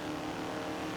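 Steady, droning engine of a low-horsepower car drifting in Forza Horizon 4, a continuous loud hum held at one pitch for a brief moment with no voices.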